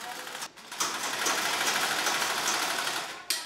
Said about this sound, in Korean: 아이들의 교복을 만드느라 쉴 틈 없이 재봉틀이 돌아가는데요.